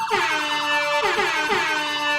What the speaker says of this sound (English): The horn, the air horn.